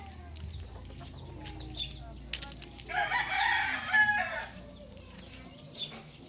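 A rooster on a gamefowl farm crows once, loud and fairly close, over a backdrop of quieter clucking and scattered bird calls outdoors.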